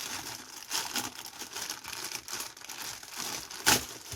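Continuous crinkling and crackling of plastic packaging being pulled open, with a sharper tearing snap near the end, close by and with no voices.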